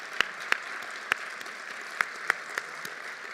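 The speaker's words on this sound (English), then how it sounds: "Let's give Dr. Ward a round of applause." Sparse, scattered claps from an audience at a closing celebration evening, a handful of distinct, fairly quiet hand claps spaced irregularly over a low room hum.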